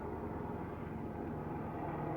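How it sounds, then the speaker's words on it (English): A helicopter hovering overhead makes a steady, continuous low rumbling drone that holds at an even level throughout, with no talking. "Sorry, you're hearing a helicopter."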